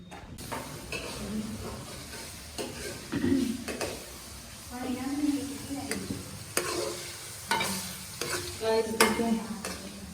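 Onions browning in a pan while cooking at home, a soft steady sizzle broken by scraping stirs and occasional clatter of utensils, with quiet background sounds.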